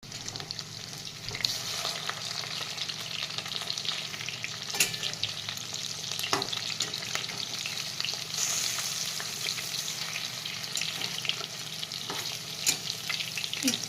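Chicken keema pakoras frying in oil, a continuous close sizzle broken by scattered sharp clicks and pops from stirring, with no voices.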